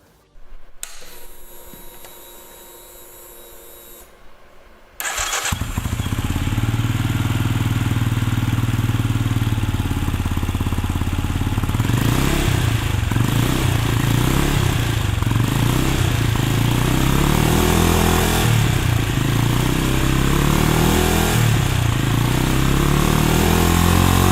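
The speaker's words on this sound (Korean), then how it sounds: "임페리알레 400의 시동을 걸어 아이들링 상태에서의 진동과 배기음을 느껴보도록 하겠습니다" A Benelli Imperiale 400 motorcycle engine cranks and catches, then settles into a loud, steady single-cylinder idle with a deep, pulsing thump that continues to the end.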